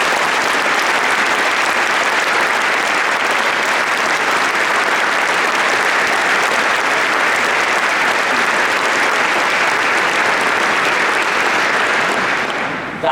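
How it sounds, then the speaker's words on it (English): Dense, sustained audience applause at an award ceremony for business and peace, a full crowd clapping steadily and loudly for about thirteen seconds before tapering off at the very end. "I suggest an applause for Bruce"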